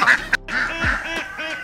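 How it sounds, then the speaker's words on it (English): Ducks quack repeatedly outdoors among a farmyard of animals, a series of loud, nasal calls following one another in an irregular rhythm, close to the listener. "I'm about sick of the quacking out here."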